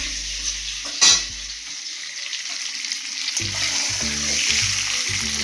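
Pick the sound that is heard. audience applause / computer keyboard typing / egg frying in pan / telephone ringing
egg frying in pan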